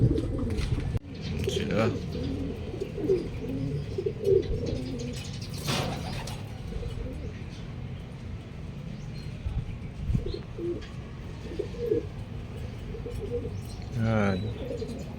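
Racing pigeons cooing at a loft during a derby race in Legazpi, Albay, with soft low coos and occasional wing flaps, close, under intermittent talk and background ambience.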